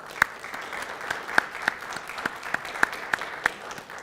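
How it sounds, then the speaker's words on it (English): Audience applause at an Army ROTC officers' commissioning ceremony: a steady, moderately quiet bed of clapping from a seated crowd, with a few sharp, distinct claps standing out at a roughly regular beat over four seconds. "please join me in a round of applause for our family members in attendance today"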